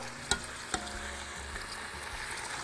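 Meat pieces fry in hot oil in a pot, a steady close sizzle with two sharp clinks or splashes early on as pieces go in one at a time.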